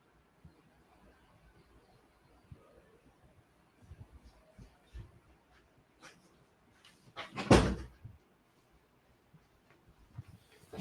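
A door opens or closes in a quiet room while someone is on a call. Faint scattered knocks and rustles lead up to one louder, heavier thud in the middle, with a few small taps afterward.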